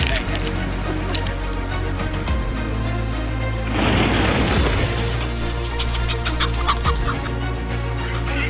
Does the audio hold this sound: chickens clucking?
yes